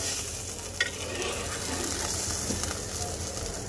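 A spoon stirs fish curry with potatoes in a pan after water is added to the fried spices for the gravy, producing a soft steady sizzle with faint scraping and liquid swishing under the low hiss of cooking.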